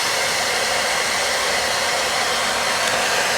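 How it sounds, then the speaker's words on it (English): A loud, constant hair dryer blowing at full power to heat a car vacuum pipe, an unbroken airy roar with a whining motor tone, up close. "So I've got the hairdryer."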